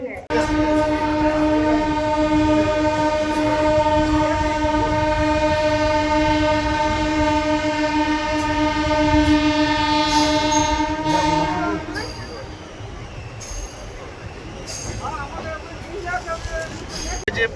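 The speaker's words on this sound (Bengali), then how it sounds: "ট্রেন অলরেডি হরেন দিয়ে দিয়েছে এবার আমাদের ট্রেন ছেড়ে দেবে" A long, loud train horn blares steadily for several seconds, then cuts off, leaving the rumble and clatter of the Rani Rashmoni Express getting underway from Bishnupur station.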